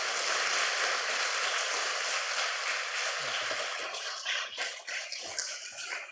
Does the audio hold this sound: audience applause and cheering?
yes